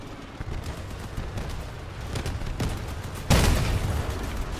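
Triple 88mm cannons firing in the Crossout vehicle combat game, heavy booming shots over a constant rumbling engine bed, with one loud close blast near the end followed by a sustained roar.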